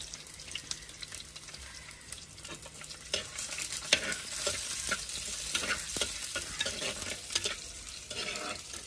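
Ginger, garlic and red chilies are sautéed in a pan for a mango and coconut fish curry, with a soft continuous sizzle and repeated scraping stirs throughout.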